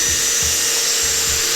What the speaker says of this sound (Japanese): こちらのサンダーね、グラインダーとも言いますが